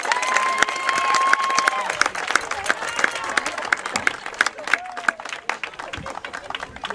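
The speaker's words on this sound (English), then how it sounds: "Please join me in a round of applause for Katiso Talima." Audience applause at a football event honoring a player, steady crowd clapping throughout with scattered sharp claps, a whistle-like tone early on and a voice briefly breaking through.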